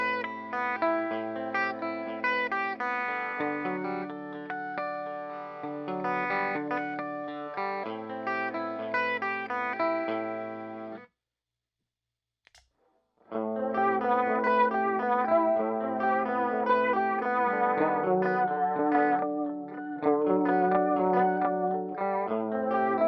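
An electric guitar played through a TC Electronic Alter Ego V2 modulation delay pedal, with fast wavering modulation and echoing repeats on chords and notes, stopping briefly for a near-silent gap before resuming.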